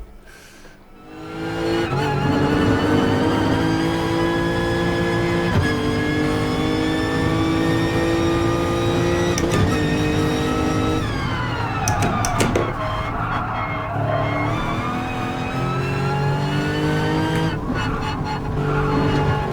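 A race car engine revving and shifting through gears in Gran Turismo Sport's Driving School, loud and continuous with rising and falling pitch throughout, no talking.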